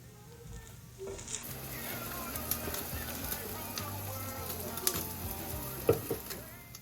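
Cumin and spices sizzle in hot oil in a pan for a simple Indian tadka tempering, a steady frying hiss with small pops and crackles over a faint background hum.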